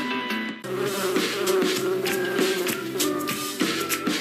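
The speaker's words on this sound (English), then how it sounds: "With the recent bee shortage, I'm keeping a colony of bees right in my backyard." Bees from a backyard colony give off a steady, close buzzing hum that runs through the whole stretch, layered with tonal, music-like sound.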